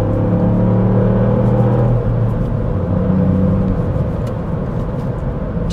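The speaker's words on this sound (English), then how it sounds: "Sorry, bit of acceleration there." A 2022 Ford Fiesta ST accelerates, its engine giving a loud, close, droning growl that holds steady and then roughens as the car pulls harder, with road rumble underneath.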